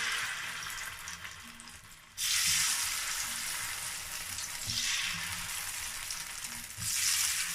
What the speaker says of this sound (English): So this is my akara, and I'm going to repeat the process till I finish frying everything.